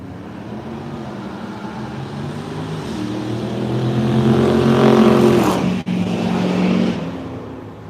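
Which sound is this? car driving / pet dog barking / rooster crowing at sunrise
car driving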